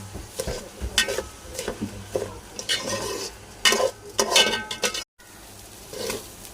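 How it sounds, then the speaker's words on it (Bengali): Soaked rice fries in a pan for pulao, stirred with repeated scraping strokes and light clinks over a constant sizzle, close up, with a brief dropout partway through. "চালটা আমি ততক্ষণে ভাজবো যতক্ষণ চালটার থেকে পানিটা না শুকাবে।"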